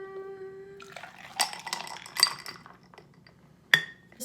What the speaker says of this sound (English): And then I fill another glass with ice.